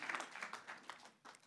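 Small audience at a German comedy night show clapping in a brief, faint burst of applause, a handful of sharp hand claps close together that quickly taper off.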